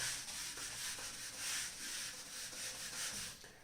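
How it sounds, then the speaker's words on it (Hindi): Rapid back-and-forth rubbing of a duster across a classroom board to wipe off written geometry, a close, scratchy brushing in quick regular strokes, heard alone without speech. "मैं यहां से मिटा रहा हूं"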